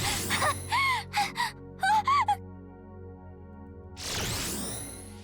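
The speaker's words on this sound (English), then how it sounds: "Misaki's panting has thrown her inverted flight out of whack." A girl pants in the visual novel game Aokana, with quick breathy gasps and short moaning exhales in close bursts, then a pause and a long breathy release near the end over soft background tones.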